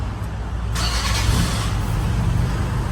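A Toyota Commuter van's engine cranks and catches after a remote start button press, a loud close rumble rising into steady idle within the first second and holding for about three seconds, no talk.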